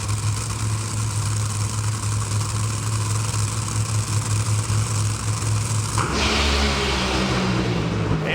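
A Top Fuel drag racing car driven by Brittany Force roars loud and steady down the track, its deep engine drone shifting abruptly near the end as it passes by.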